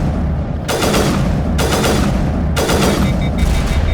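Automatic sniper rifle fire in Mass Effect Legendary: three loud, sharp bursts at roughly one-second intervals, each with a ringing tail, over a constant low background rumble.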